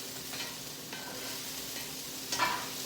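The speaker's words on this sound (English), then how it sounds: "Stir this around." Food frying in a pan with tofu and noodles nearby, stirred now and then; a steady quiet sizzle with a few light scrapes and one brighter clatter near the end, no voices.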